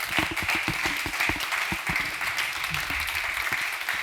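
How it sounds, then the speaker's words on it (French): An indoor audience at an evening event on energy transition in Normandy applauds steadily, a dense patter of many hands clapping throughout at moderate volume. "Je vous demande s'il vous plaît d'applaudir une personnalité dans l'écologie, Benoît Léniel"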